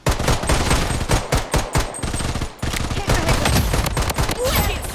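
Rapid, loud bursts of gunfire in the shooter game Blood Strike, played with only a pistol in the hot zone mode, with dense overlapping shots and a brief lull in the middle.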